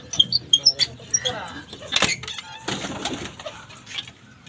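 Indoor pigeons coo with short chirps and wing flutters in a brief burst, followed by softer scuffling and a voice.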